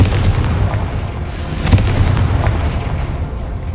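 A Confringo blasting spell explodes in the video game Hogwarts Legacy, a loud, rumbling boom with a sharp burst near the middle that rolls on as a sustained roar.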